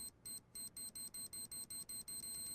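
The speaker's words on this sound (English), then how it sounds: "No, it's like a beeping." A thin electronic bomb beep in a video game pulses repeatedly, quiet and high-pitched, the gaps shrinking until the tone holds steady at the end.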